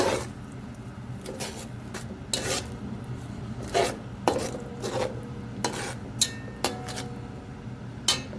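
A spoon scrapes and rasps around a cooking pot as spiced masala with salt and tomato is stirred for savoury pulao, giving irregular close strokes with occasional metallic clinks.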